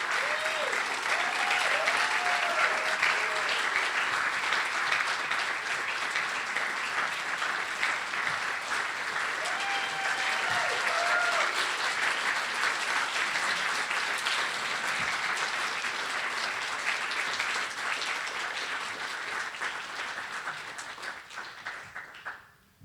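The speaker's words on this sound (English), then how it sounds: "Give us an applause for him" Sustained audience applause welcoming a science fiction speaker to the stage, a dense even wash of clapping lasting over twenty seconds with brief voices and whistles mixed in, tapering off at the end.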